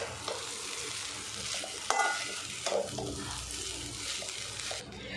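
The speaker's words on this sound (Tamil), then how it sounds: "இப்போ இதெல்லாம் சேர்த்துட்டு நல்லா மிக்ஸ் பண்ணிக்கலாம்." Leftover cooked rice with egg, chili powder and chopped coriander leaves is stirred and mixed in a hot pan, giving a continuous sizzle with scraping strokes and a few sharper clinks of the spoon.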